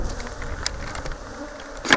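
Honey bees swarm around an opened hive during a honey harvest in Kenya, a close, steady buzzing drone with individual bees swelling louder as they pass near.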